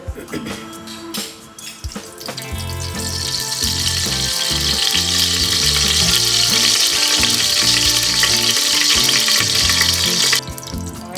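Oil sizzles steadily in a pressure cooker, preceded by a few clinks and some water sounds, with faint background noise throughout.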